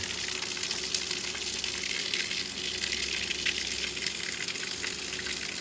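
Water gushing steadily from a Master company water pump, a constant hissing splash at moderate level that never lets up, no speech.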